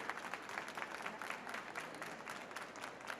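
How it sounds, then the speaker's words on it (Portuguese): Steady applause from a conference audience at a Web Summit Rio panel, dense even clapping held at a moderate distance without pause and with no talk over it. "Salva de palmas."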